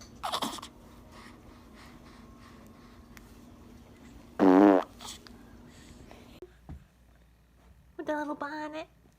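A baby lets out a couple of short farts amid quiet breathing and rustling, with a loud buzzy burst midway and another near the end; close and intimate, with soft background noise.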